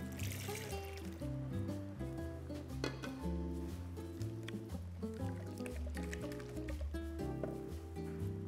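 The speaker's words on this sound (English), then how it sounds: "Just a little bit of water." Water trickling and splashing into a pan, soft and close, with faint kitchen clatter and no talking.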